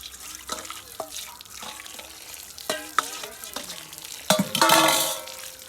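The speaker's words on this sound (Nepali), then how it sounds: "चिसो पानीमा पखाल्न जाँदैछौँ" Mushrooms are washed in cold water in a sink, with faint splashing and scattered knocks from handling, then a louder rush and slosh of water near the end.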